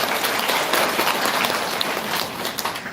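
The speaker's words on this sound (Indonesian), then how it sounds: "Tepuk tangan untuk komitmen" Congregation at an Easter thanksgiving church service applauding, a dense, steady wash of many hands clapping together for the whole stretch with no voices over it.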